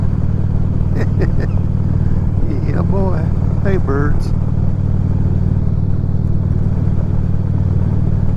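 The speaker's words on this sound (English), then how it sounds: "just want to ride my motorcycle" A motorcycle engine drones steadily and loudly throughout, with a voice speaking briefly over it and birds chirping faintly in the background.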